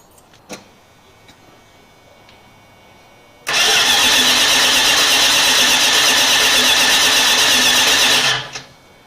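A 1979 Chrysler 300 engine cranks over in one loud, continuous starter churn lasting about five seconds, cutting off abruptly after a quiet stretch with faint clicks beforehand.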